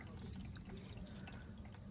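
Water drains steadily from a newly plumbed kitchen sink, a soft continuous gurgling rush heard close and alone without any talk.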